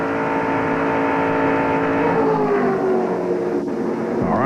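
Stock cars racing in the 1998 Winn-Dixie 300, a steady loud roar of several engines passing close, with harmonic whine shifting in pitch and a rising rev near the end.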